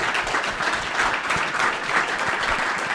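Conference audience at an impact investing bond launch breaking into applause, a steady, fairly loud field of many hands clapping throughout, with no break in the sound.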